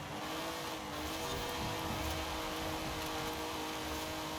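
Stock, underpowered car engine droning steadily in the racing game Forza Horizon 5, a constant buzzing roar with faint tire noise running unbroken throughout.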